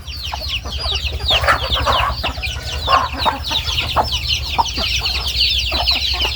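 A flock of Thai native chickens clucks busily at morning feeding, with overlapping close and farther clucks and chirps in a constant chatter, over a low steady hum and no speech.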